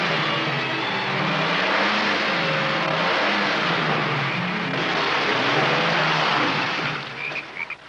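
A car engine revs loudly and steadily close by as the car pulls away on a muddy road, holding a strong rising and falling drone before easing off at the end.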